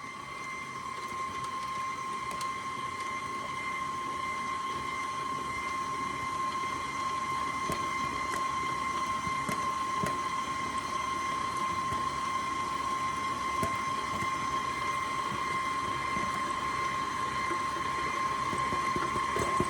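An electric mixer turns steadily on low speed, stirring dry ingredients into banana nut muffin batter, a continuous even whir with a bright steady whine that holds close and unchanged throughout.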